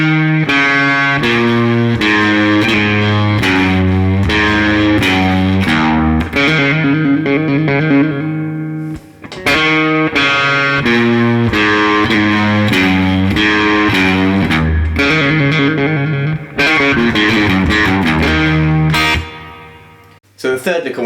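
Blues licks on a distorted electric guitar, played loud and close as repeated sustained phrases with bends, breaking briefly between runs before starting again.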